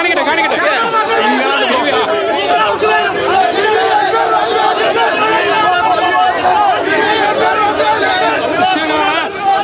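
Crowd noise at a political rally in Chanthakunnu, Nilambur, a dense hubbub of many voices chattering and calling out together, loud and continuous throughout.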